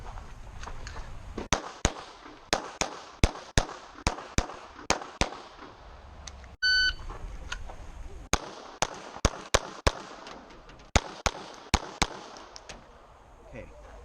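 Sharp, loud Sig P365 pistol shots ring out in quick strings at an outdoor shooting competition, with several separate volleys, each a rapid series of cracks, and a brief electronic beep in the middle.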